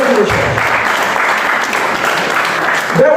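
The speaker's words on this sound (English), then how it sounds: "Please give Bearwood Church a round of applause." Audience applause thanking Bearwood Church at a community event, a loud, steady wash of clapping filling the whole stretch, with a brief voice near the start and a tonal sound near the end.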